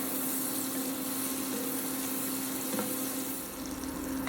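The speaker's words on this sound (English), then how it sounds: "So we're just going to give them a little saute just until they start to cook." Onions sautéing in bacon grease for green beans and potatoes with bacon make a steady, soft sizzle with a faint hiss, unbroken for the whole stretch and fairly quiet, with no one talking.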